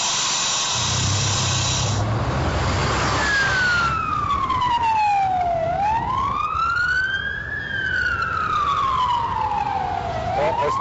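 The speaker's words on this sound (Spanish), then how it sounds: "Ahora pasa la ambulancia." A wailing ambulance siren rises and falls steadily as it passes, loud over steady traffic noise.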